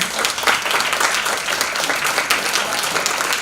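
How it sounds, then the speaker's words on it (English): An audience at a talk on recycling and zero waste gives a sustained round of applause that is full and even throughout, with individual claps faintly distinguishable in the crowd. "I think we all owe Claire a big round of applause"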